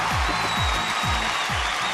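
Studio audience on a Kannada comedy show clapping and whistling, a dense steady wash of applause with shrill whistles held over it throughout, loud and close, no voices standing out.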